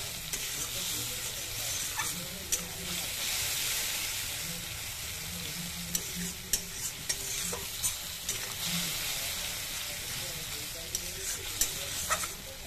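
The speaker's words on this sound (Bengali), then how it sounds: "এরকম মশলাটা একেবারে কষাবো।" A ground mustard, poppy seed and onion paste fries in oil in a pan for a rohu fish curry. A steady loud sizzle runs throughout, with periodic sharp scrapes and taps of a spoon stirring it close by.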